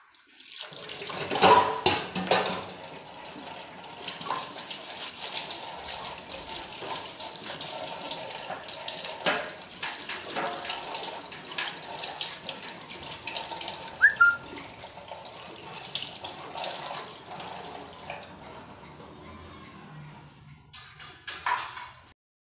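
Tap water runs steadily into a sink while dishes are washed at home, a continuous splashing hiss with brief louder bursts and clinks, no talking over it.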